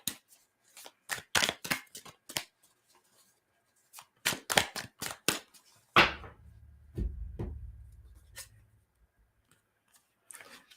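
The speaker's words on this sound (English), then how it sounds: "Let's get a nice shuffle going." Tarot cards being shuffled by hand in a quiet room, a run of quick riffling bursts with pauses, then a softer bridging cascade and a few final taps, close and alone.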